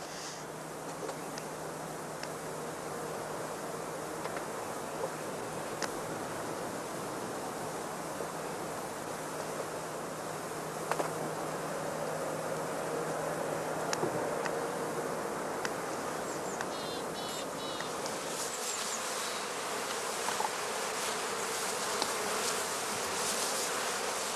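Honey bees buzzing around heather skep hives at an apiary, a dense continuous hum of many insects with occasional closer fly-bys over a steady outdoor background.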